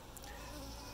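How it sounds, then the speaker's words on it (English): Soft, continuous buzzing of honeybees reacting to a new queen introduction, faint and steady over a brief moment. "This is the bee's reaction to a queen introduction."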